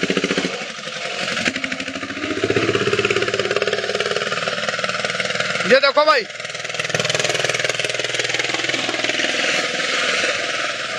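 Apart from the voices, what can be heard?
5911 tractor engine running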